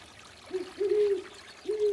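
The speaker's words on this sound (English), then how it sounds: "an owl is hooting, the water singing me to sleep" At night on the Arizona Trail near Picket Post, an owl hoots several times in soft, low, mellow calls, close and clear over the faint steady trickle of a flowing stream.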